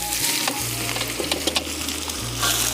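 Cumin seeds sizzle in hot oil in a dense, loud crackle as chopped onion goes in, with brief stirring scrapes and a low hum underneath.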